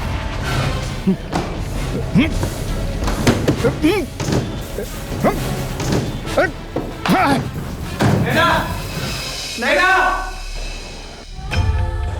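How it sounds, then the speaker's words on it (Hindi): A door is forced open with repeated heavy slams and thuds against it, loud and close, under urgent shouting voices throughout. "काका दरवाजा तोड़ दो।"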